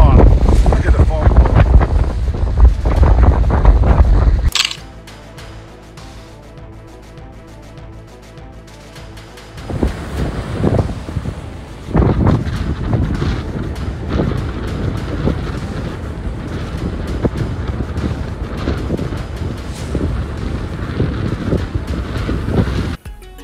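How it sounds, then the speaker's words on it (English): Strong gusting wind on the beach at Deadman's Cove in foul weather, roaring loudly against the microphone, easing briefly in the middle and then buffeting hard again, with surf in the background and a voice speaking at times. "boy, the wind is nasty. Driving me off the beach."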